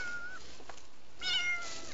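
A man imitates a cat's meow, giving a faint, thin call, a brief lighter note and then a clearer rising meow near the end, heard alone without talk.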